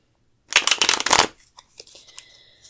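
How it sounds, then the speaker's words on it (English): A Lenormand card deck is shuffled in a quick burst of riffling card flutter lasting under a second, followed by a few light taps and soft handling sounds in a quiet room. "Shuffle my Lenormand deck here."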